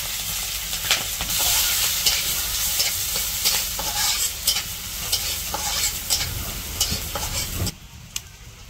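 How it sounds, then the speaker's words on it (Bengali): Onion, garlic and green chilli sizzling in hot mustard oil, a loud close crackle with frequent stirring scrapes that cuts off near the end. "এখন বাগার দিব পেঁয়াজ রসুন কাঁচামরিচ"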